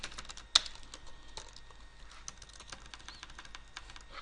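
Computer keyboard keys tapped while writing ASP.NET MVC code, a quiet irregular run of close clicks with one sharper keystroke near the start.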